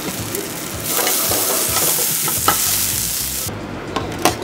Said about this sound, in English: Then I'm actually gonna sear off the skin.